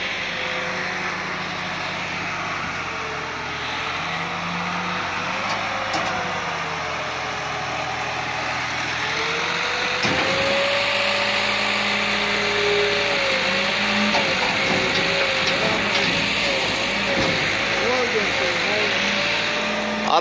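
A car with a stripped pinion gear runs in place, its engine droning steadily with wavering whine tones and irregular clunks, while someone talks over it throughout.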